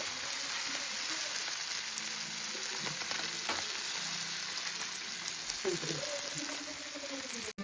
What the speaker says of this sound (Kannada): ಎಳ್ಳಿಯ ಬಂಗುಡೆ ಫ್ರೈ